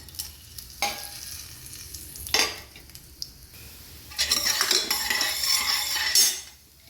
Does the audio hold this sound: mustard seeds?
yes